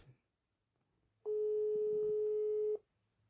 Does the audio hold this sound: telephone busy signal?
yes